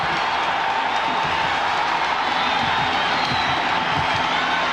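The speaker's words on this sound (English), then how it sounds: "So Gordon misses, and it draws the biggest cheer of the day." At Notre Dame Stadium during the 1993 Boston College at Notre Dame football game, the crowd erupts after a missed kick, a continuous, loud roar of cheering that holds without break.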